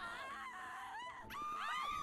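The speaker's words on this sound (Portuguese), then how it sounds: "Como vocês estão vendo, essa gritaria de zumbi." Zombies scream and wail in GTA 5 during a heavy snowstorm, a dense chorus of rising and falling shrieks that overlap continuously and grow louder near the end, with no speech over them.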